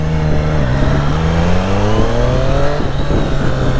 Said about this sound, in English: Oh, this bike is just glorious, the sound.